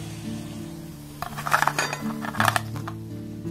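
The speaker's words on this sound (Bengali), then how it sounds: "এবার দেখুন গ্যাসটা জেলে দিয়ে একটা কড়া বসিয়ে দিয়েছি" A wok is set down on a lit gas stove while making gokul pitha, giving a cluster of metallic clinks and clanks in the middle over a steady low hum. No one talks.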